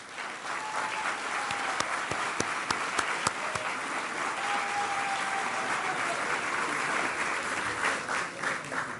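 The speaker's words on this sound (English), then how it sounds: "give them a round of applause for all the families in attendance" A crowd applauds steadily for several seconds at a graduation ceremony, dense clapping from many hands with a few sharper claps standing out near the start.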